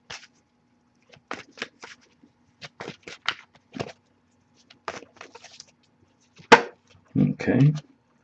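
Tarot cards being handled: soft flicks, snaps and shuffling bursts in scattered short clusters, close up and otherwise quiet.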